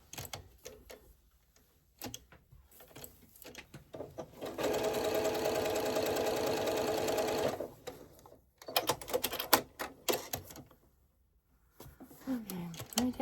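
A sewing machine stitches fabric for foundation paper piecing in a steady whirring burst of about three seconds, with scattered clicks and handling noises before and after.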